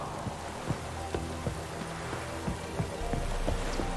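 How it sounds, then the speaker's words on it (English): Rain falls in The Witcher 3 as a constant hiss, with faint drip taps and low thumps scattered through it and no talking. "Looks like rain."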